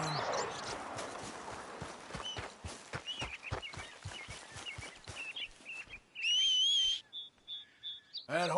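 Horse hooves clip-clop at a steady rhythm in the Red Dead Redemption II video game, a close run of evenly spaced thuds, followed by brief whistle-like and chirping game sounds near the end.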